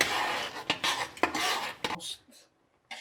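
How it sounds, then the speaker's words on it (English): Pasta being stirred in a pot for a homemade marinara dinner, with a utensil clinking and scraping against the metal in a few quick bursts, then falling nearly silent before a faint last scrape. "Okay, I'm stirring it."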